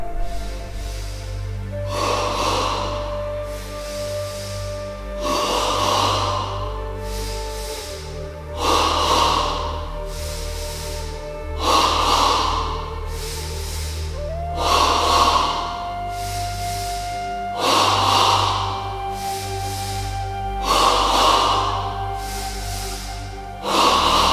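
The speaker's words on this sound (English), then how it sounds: "Ready now for stage 1 of double breathing, 10 times in the abdomen." Double abdominal breathing in a beginners' yoga exercise: forceful paired breaths through the nose repeat in a steady rhythm about every three seconds, close and clear over soft background music.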